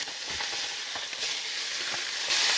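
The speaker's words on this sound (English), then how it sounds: "Now we just gotta be patient and wait for our fish to sear." Trout and flounder fillets sear in a hot pan, giving off a steady, close, bright sizzle with a few soft pops and crackles. The sizzle swells slightly at the end, and no one speaks.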